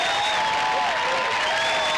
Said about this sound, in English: Listen to this crowd cheer that defensive unit.